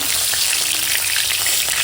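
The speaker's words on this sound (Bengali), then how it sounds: "এখন তেলের উপর বেগুনটা দিয়ে ভেজে নেব" Eggplant fries in hot oil, giving a loud, close, unbroken sizzling hiss over a brief moment.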